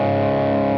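An electric guitar played through a Mad Professor Mighty Red Distortion pedal holds a brief, buzzy, sustained distorted chord, dense and loud, lasting under a second.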